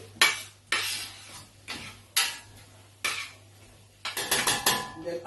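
A utensil scrapes and clanks against a pan while egg fried rice with king prawns is mixed with soy sauce, four separate loud strokes followed by a quicker flurry of metallic clinks and no voices.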